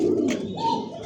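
A male fancy pigeon coos close by, a single low, throaty rolling call lasting about a second with no talk over it.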